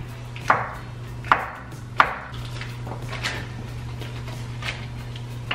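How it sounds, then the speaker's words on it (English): A kitchen knife chops a block of butter into small chunks, three crisp knocks against a cutting board followed by softer, scattered taps, close and clear with no talking. "just cut it up into little chunks with my knife here"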